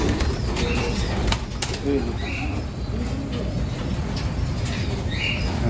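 Young pigeons in a loft give soft, intermittent cooing and light rustling over a steady background hum, with brief chirps and a wing flutter near the start.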